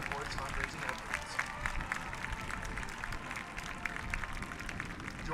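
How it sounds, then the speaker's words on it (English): A stadium crowd at a high school football game claps and cheers to honor a senior class fundraising effort, with steady applause and scattered whoops heard at moderate distance beneath a voice talking. "Please give a round of applause to our Senior Court's fundraising efforts."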